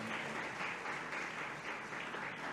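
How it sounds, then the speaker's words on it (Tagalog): A church congregation at a Filipino preaching service claps together, giving a continuous, even wash of applause that sounds somewhat distant and subdued throughout. "pumalakpak ng malakas sa ating mahal na Panginoon"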